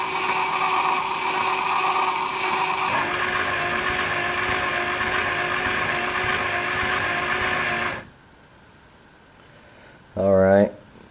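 A DarkStar solar tracker motor on a test bench runs with a steady mechanical whine and hum, shifts tone partway, then stops abruptly, leaving near silence before a brief tonal burst.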